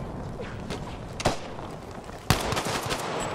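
Gunfire in the Battlefield V shooter game on PS4, two sharp shots standing out over a dense rumble of distant battle noise, no speech.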